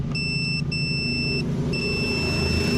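Repeated electronic beeps from a wiring connection tester checking a Honda Beat headlight circuit, two sustained tones with short breaks, then a steady tone, close and clear over a low continuous rumble.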